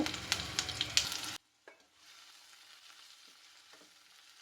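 Cumin seeds and curry leaves sizzle in hot oil, a bright crackling burst that cuts off abruptly after a second or so, followed by a faint quieter hiss.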